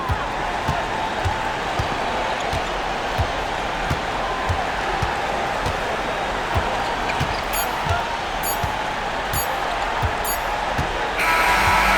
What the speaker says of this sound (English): So the home crowd happy here as they get the victory